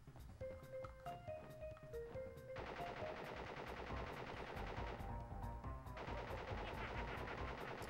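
Rapid bursts of tommy gun fire in the Crash Bandicoot video game, a loud, fast rattling stream that starts after a short series of game tones, pauses briefly, then resumes.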